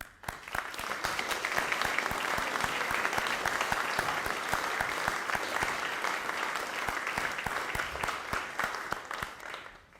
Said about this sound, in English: I'd like Hannah Roberts and Amelia Nazar to please accept our round of applause